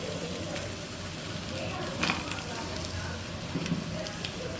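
Paneer roasts in ghee in a pan, giving a steady, close sizzling hiss with a few brief crackles and no pause.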